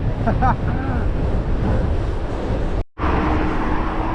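A strong headwind buffets the microphone while riding a gravel bike on the Isle of Man, a constant roaring rush with one brief dropout, and faint speech-like sounds in the first half.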